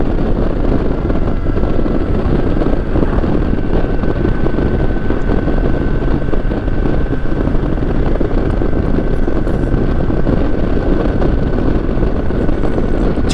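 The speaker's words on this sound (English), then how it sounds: "Downshift it once, and it really takes off." A BMW K1600 B motorcycle engine pulls hard after a downshift, a loud continuous roar mixed with heavy wind rush from riding at speed, steady throughout with no talk.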